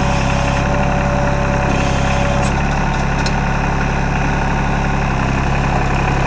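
A 2001 New Holland TC33D compact tractor with a front loader idles in a steady, low, close rumble that holds evenly throughout, with no one talking.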